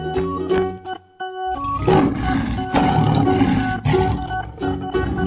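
A lion lets out a loud, deep roar that swells and holds for several seconds, with grunting pulses, heard close and alone over a brief musical backing at the start.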